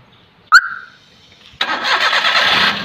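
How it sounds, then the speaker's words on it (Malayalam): Maruti Suzuki Alto with an air-conditioning compressor problem: a sharp click or chirp, a short pause, then the engine cranks and catches into a steady close idle. "നമ്മളിപ്പോൾ വണ്ടി സ്റ്റാർട്ട് ചെയ്യാൻ പോവുകയാണ്."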